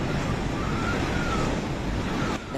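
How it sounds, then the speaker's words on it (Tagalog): Strong wind roars continuously with a broad rushing noise, carrying a faint high whistling tone through the gusts. "Sumisipol ang napakalakas na hangin sa Gonzaga,"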